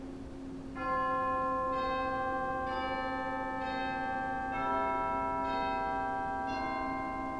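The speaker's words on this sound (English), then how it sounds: "you also have some chimes in here" Bright, ringing chime tones from a 1996 Austin pipe organ in a church, struck one after another in a slow, even sequence, each note overlapping and sustaining over a steady held drone; no voices.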